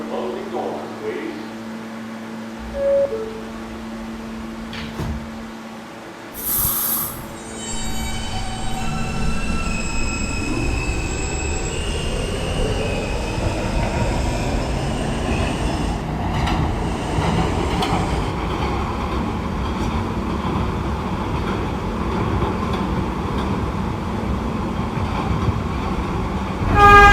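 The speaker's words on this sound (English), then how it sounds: "This is a Union Turnpike bound K train." An R160A subway train on the K line toward Union Turnpike pulls away and runs, its motor tone rising as it speeds up, with wheels squealing on the track and recorded announcements at the start.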